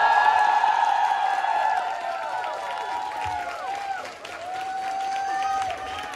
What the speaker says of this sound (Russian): Вот, кстати, отдельные аплодисменты музыкантам